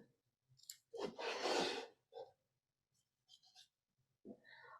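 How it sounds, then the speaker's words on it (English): Duckbill scissors snip and rasp through thick foam material in a quiet room, a few close, soft crunching cuts with clicks and gaps of near silence between them. "I'm going to use our duckbill scissors"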